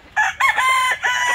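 A young rooster, a stag on a farm, crows nearby in a short, loud, strained call broken into a few rising and held segments, with no talk over it.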